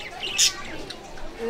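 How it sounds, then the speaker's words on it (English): Dove birds in a crowded slum neighborhood of Happyland, Tondo, Manila, give a brief high call amid steady background noise and people talking. "Dove birds."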